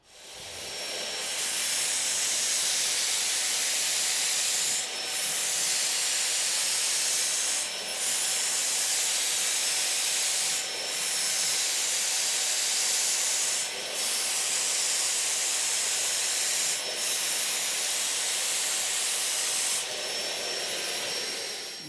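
An Earlex 6700 paint sprayer from Wagner lays finish onto an unsanded cherry board, giving a loud, steady airy hiss in long passes broken by brief pauses about every three seconds, with no talking.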